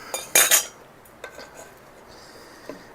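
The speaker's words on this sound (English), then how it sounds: "So I'm going to take a jar out, use my tongs" Hot glass canning jar lifted out with metal tongs while making strawberry jam: a short cluster of bright metallic clinks and clatters near the start, then a few faint scattered taps in a quiet kitchen.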